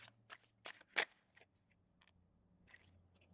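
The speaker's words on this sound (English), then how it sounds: "I was just shuffling." A deck of playing cards is riffled and shuffled in quick, papery bursts, three strong flicks near the start followed by softer, scattered riffles in a quiet room.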